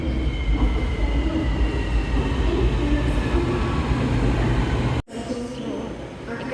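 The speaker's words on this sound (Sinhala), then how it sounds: "ට්‍රේන් එක විනාඩියෙන්ම එනවා" A metro train rolls through a station at Masjid Jamek in Malaysia with a loud, steady rumble and wheel noise that holds for several seconds, then cuts off abruptly near the end.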